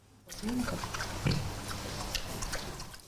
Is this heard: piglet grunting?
yes